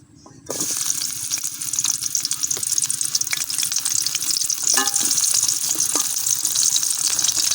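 Lentil badi, hand-made dal dumplings, frying in hot oil for a vegetable dish with brinjal and pumpkin, a steady close sizzle starting abruptly and continuing evenly, with occasional light stirring clicks.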